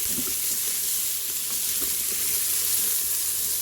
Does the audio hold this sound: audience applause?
no